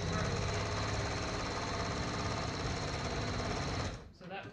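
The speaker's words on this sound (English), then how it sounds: "what I do is I will double stitch, back stitch on the seams just to make sure that they are secured" A sewing machine back stitching the seams of a fabric microwave bowl holder, running steady and close with a fast rattling hum before it slows and stops near the end.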